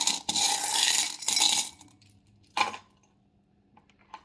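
Small metal charms clatter and jingle on a tray in three short bursts, with light clinks trailing off into near silence.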